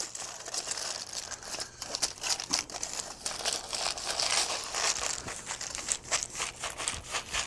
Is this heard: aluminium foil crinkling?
yes